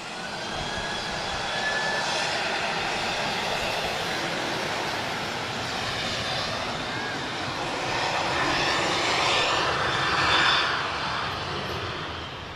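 A KLM airliner arriving from Amsterdam passes with a continuous broadband roar of aircraft engines that swells gently and stays loud throughout, heard from nearby at an airport.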